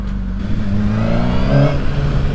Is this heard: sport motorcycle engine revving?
yes